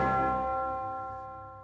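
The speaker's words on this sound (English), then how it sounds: "I added this brass for that impact vibes" Layered brass samples in a trap-style beat hit once as a bright, bell-like sustained tone with a low thump underneath, fading steadily over under two seconds, no talk.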